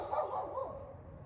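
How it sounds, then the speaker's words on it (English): A dog gives a brief, faint whining bark with a few rising and falling yelps, heard at a distance and fading quickly. "The dog barking kind of made me lose my train of thought."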